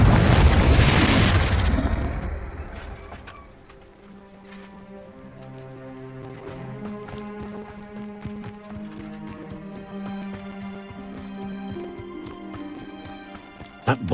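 A Confringo blasting spell goes off in Hogwarts Legacy as a loud, short explosive burst at the start that fades over a few seconds, followed by game music and footsteps.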